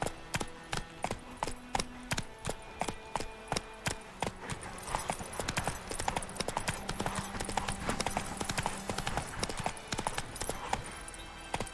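Hooves of the horse Roach clip-clop in a brisk, steady rhythm in The Witcher 3 video game, the beats turning faster and denser as the horse breaks into a gallop, loud and close throughout.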